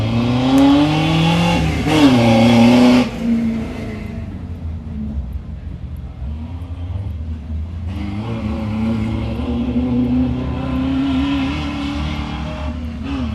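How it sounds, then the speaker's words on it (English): A 1996 Ford Ranger two-wheel-drive race truck at an off-road truck race in Bonners Ferry, Idaho, its engine loudly revving and roaring through gear changes, then dropping and rising again as it pulls away. "Nate Jones sponsors is a 96 Ford Ranger 2-wheel drive at Bonners Ferry, Idaho"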